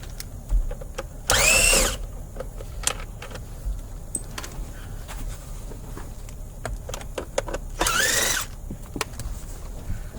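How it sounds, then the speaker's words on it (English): A power driver spins out Phillips screws from a Toyota Camry steering column in two distinct whirring bursts several seconds apart, with small clicks, rattles and handling noises in between; no talking. "We're going to go ahead and we're going to remove both Phillips screws."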